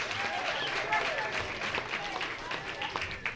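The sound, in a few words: applause for puzzle contest winners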